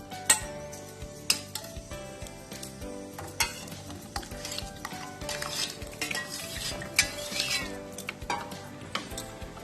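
Curd being mixed into freshly ground tomato paste for coconut rice, with soft clinks and scrapes of a spoon against a metal vessel, sporadic sharp taps over a quiet background, close and alone.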